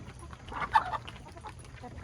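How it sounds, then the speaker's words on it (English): Backyard chickens cluck softly nearby, a few short, low murmured clucks rising and fading over a quiet background, with no voices. "They're just being chickens"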